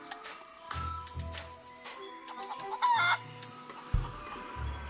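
A wild pirate island chicken from the game The Curse of Monkey Island clucks in short, close bursts with gaps between them, ending in a few louder squawks.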